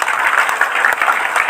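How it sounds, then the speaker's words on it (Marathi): Loud, dense applause from a crowd at a devotional kirtan gathering, continuous clapping sustained at full strength throughout. "वाजवा जोरदार टाळी"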